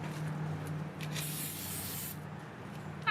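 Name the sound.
spraying Goof Off on a school bus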